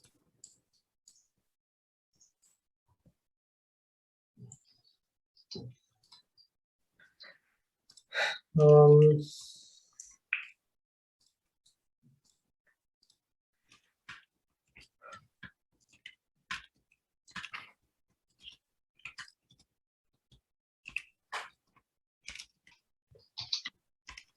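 Several people type comments on computer keyboards during an online team meeting, producing sparse, scattered faint clicks and key taps, with one brief voice partway through.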